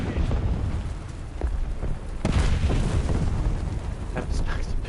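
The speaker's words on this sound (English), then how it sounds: "Oh, oh, that's a bomb." Bomb explosion in War Thunder, a deep booming blast rolling into low rumble amid ongoing battle noise, with people chatting over it.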